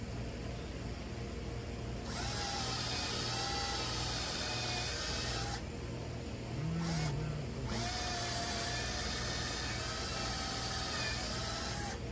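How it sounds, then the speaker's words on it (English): A power drill whines in long bursts with brief pauses between while drilling a hole for a cart, steady and close, its motor pitch holding even over a constant hiss. "So you drill the hole."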